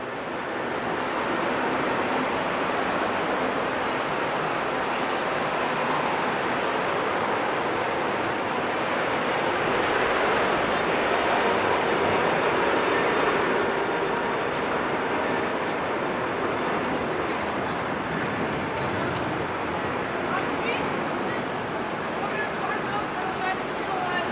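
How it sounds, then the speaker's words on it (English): A Royal Jordanian airliner taxis at Amsterdam Schiphol Airport, giving a steady, broad jet engine roar that holds level and swells slightly midway, heard from a spotting position at moderate distance. "Bottom of the screen you saw the Royal Air Jordanian taxiing"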